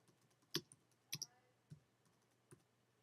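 A few scattered keyboard clicks while text is typed for a custom shirt design, quiet and close, with irregular gaps between keystrokes and no talk.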